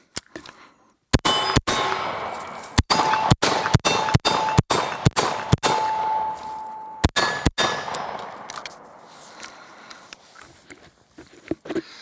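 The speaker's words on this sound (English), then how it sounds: "let's demonstrate this in live fire" Carbine gunfire while moving, about a dozen sharp shots spaced roughly half a second to a second apart, each followed by a ringing clang of bullets striking steel targets, with footsteps between shots.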